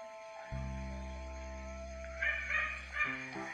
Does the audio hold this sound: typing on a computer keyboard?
no